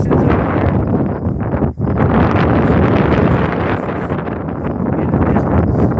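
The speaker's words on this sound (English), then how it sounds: "It's pretty windy out here." Strong wind buffets the microphone outdoors on a hike within view of windmills, a loud continuous roaring rush with only one brief dip.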